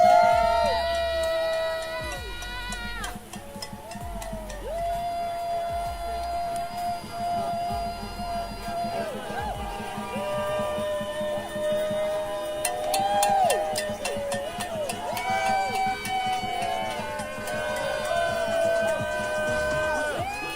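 A large crowd at a protest cheers and whoops loudly and continuously, voices overlapping in rising and falling waves with whistles and shouts close by.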